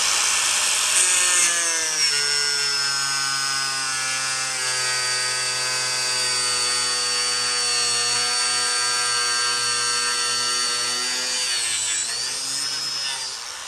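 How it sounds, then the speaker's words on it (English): A jigsaw cuts through a racecar bumper with a loud, steady motorized whine that holds for the whole stretch, with its pitch sagging briefly near the end. "So the jigsaw, you make a hole for the blade, and you just follow the line."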